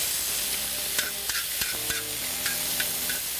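Blackened flank steak with peppers and onions sizzling on a FireDisc grill, a steady close frying hiss broken by sharp scraping clicks of a spatula stirring the food, with no talking.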